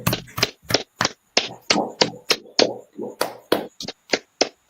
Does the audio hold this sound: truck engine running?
no